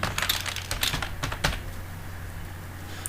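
LaTeX table code is typed on a computer keyboard, a quick burst of close, crisp key clicks in the first second and a half, then quieter room tone.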